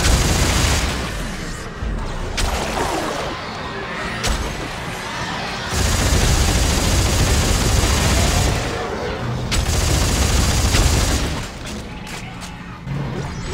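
Railgun shots in the co-op shooter Dead Space 3 mixed with other gunfire and booms, loud bursts separated by brief quieter gaps, with no talk.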